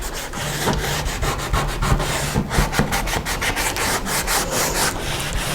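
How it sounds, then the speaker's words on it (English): A worn sanding block rubbing over a wooden kitchen cabinet before painting; rapid back-and-forth scratchy strokes repeat steadily and close up, loud and alone without talk. "This sanding block is already used, it's not really harsh"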